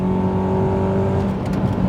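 A 7th-generation Honda Accord Euro with a six-speed manual and VTEC engine pulls hard under acceleration, a loud, steady, close-up engine drone with strong even harmonics and no talking.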